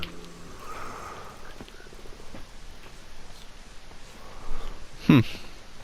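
Minecraft frogs give soft croaks over a quiet game background, ending with one louder, sharper croak near the close.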